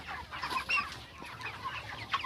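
Broiler chickens cluck softly at a poultry farm holding around 1,589 birds, scattered short calls overlapping at a moderate distance with no talking.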